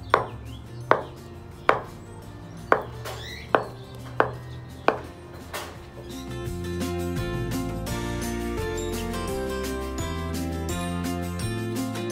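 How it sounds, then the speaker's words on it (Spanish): A knife chops papaya into small pieces on a board with seven evenly spaced, crisp knocks. Then a faster, denser run of cuts follows, close and clear with no talk. "cada uno de estos pedacitos, lo vamos a picar en pedacitos."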